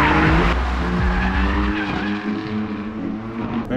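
A BMW M3 drifts with loud squealing tires and a revving engine rising and falling close by, the skid giving way to wavering engine tones.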